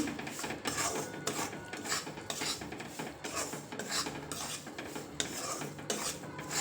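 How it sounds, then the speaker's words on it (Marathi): Green moong flour roasting in ghee, stirred with a spoon in rhythmic strokes, each one a dry scraping rasp against the pan, repeating steadily about once a second at close range. "तीन ते 4 मिनटं आता मी हे पीठ चांगलं परतून घेते."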